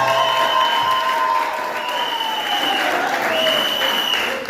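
An audience at a church service for Women's Day applauds to acclaim the Lord, a steady, loud wash of clapping with light cheering that holds evenly before easing slightly at the end.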